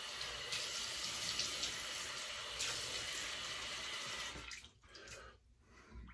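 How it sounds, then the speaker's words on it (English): Cold tap water running steadily into a sink and splashed onto the face after a shave, a close, continuous wash that thins out near the end. "Cold water splash. Close the pores."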